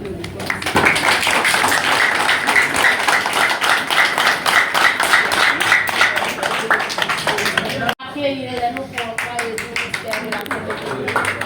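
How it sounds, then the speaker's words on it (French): An audience applauds after a speech in a hall, with steady clapping throughout and a brief break partway through. "On les applaudit."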